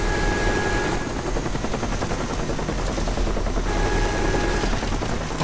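A constant, loud helicopter drone from Call of Duty: Black Ops multiplayer, heavy rotor chop mixed with bursts of gunfire that fill the whole stretch without letup.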